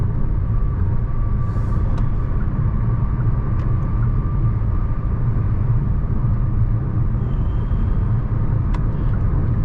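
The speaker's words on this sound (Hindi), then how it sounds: "रोड नॉइज़ भी है, but again nothing that would bother you फिलहाल" Steady road and tyre rumble inside a Hyundai Alcazar 1.5 turbo petrol DCT SUV cruising on the highway, a continuous low drone that fills the cabin with no speech.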